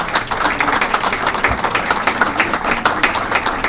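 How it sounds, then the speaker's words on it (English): Loud, close audience applause for the sponsors at a Council for Quality Growth meet-and-greet event, a steady stream of many hands clapping without a break. "Let's give each and every one of these sponsors a big round of applause."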